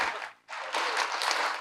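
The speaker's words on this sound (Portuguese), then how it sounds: "¡Aplauso, aplauso!" Audience applause at a public broadcasters' congress, a brief burst of clapping that cuts out for a moment and then returns as a fuller, sustained ovation from the crowd.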